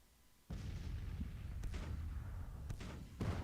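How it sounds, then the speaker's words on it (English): Artillery fires across a Grand Tactician Civil War battlefield near Gettysburg, several cannon booms in irregular succession over a steady low battle rumble, each shot a sharp report with a rolling tail. "Artillery's firing at someone"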